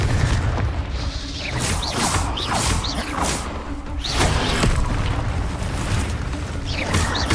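Rapid spell casting in Hogwarts Legacy, with the Incendio fire spell and the Confringo explosive curse: loud repeated whooshes and booming blasts that crash every second or so over dense combat noise.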